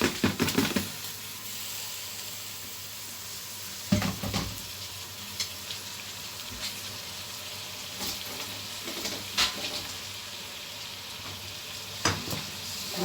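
Rice sizzles gently in a pan with onion and oil, a soft, continuous frying hiss broken every few seconds by the scrape and clack of stirring.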